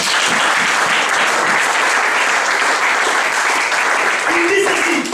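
A church congregation bursts into loud, sustained applause during a French-language sermon, dense clapping filling the room steadily for several seconds with a few cheers and voices mixed in.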